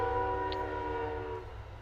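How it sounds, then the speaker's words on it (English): A train heard from indoors, its steady horn-like drone holding for over a second over low rumbling, then fading. "Sorry, that's the train."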